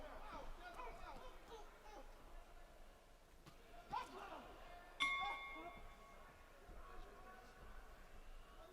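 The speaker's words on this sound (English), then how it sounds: "Bell goes to the end of the second." Ringside bell at an amateur boxing world championship bout marks the end of the second round with a bright, brief ding over a murmuring crowd and a commentator's voice.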